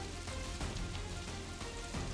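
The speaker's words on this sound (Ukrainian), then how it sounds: "Сраний кислотний дощ." Acid rain falls steadily in the game Kenshi, a soft, continuous hiss of drops on the ground with no voices, even and unbroken throughout.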